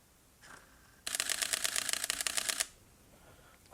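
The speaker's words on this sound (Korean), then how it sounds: "상당히 빠른 셔터음을 들려주는 것 같습니다." A camera body fires a fast continuous burst on its highest high-plus drive setting, giving a dense rapid run of crisp shutter clicks for about a second and a half, close and loud, with brief quiet handling before and after.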